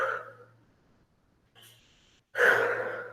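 A person reading aloud imitates rhythmic swimming breaths, close and breathy: a long exhale, a pause, a short puff, then a louder forceful breath, with no water present.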